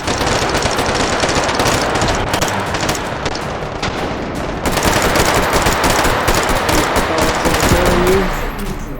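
Sustained rapid machine-gun fire in H3VR, loud and close, a dense rattling stream of shots that continues through the whole stretch with brief shifts in intensity, without speech.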